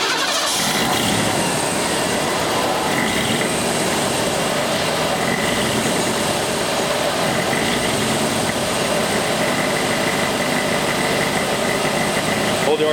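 A Ford engine with EEC-IV ignition and a misfire runs steadily with its revs held up, a continuous loud motor roar filling the whole stretch with a brief start at the beginning and talk over it.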